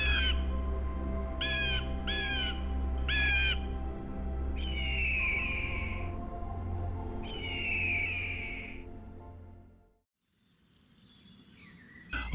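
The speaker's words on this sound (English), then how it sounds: "the call of an eagle is like a declaration of the presence of not just one bird" A large raptor calls repeatedly over the Zambezi River escarpment, several loud clipped calls followed by two long drawn-out cries over a steady low hum of wind or water, then near silence.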